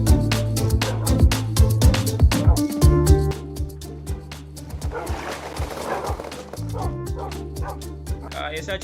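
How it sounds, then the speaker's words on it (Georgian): Minecraft dog barking and yipping in quick loud bursts, then softer whimpers and whines, with game music and sound effects running underneath. "ესა ჩემი პირველი ძაღლი."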